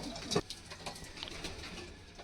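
A pair of Kaldum pigeons coos softly in a quiet space, with a few faint low calls and small rustles, one louder burst near the start.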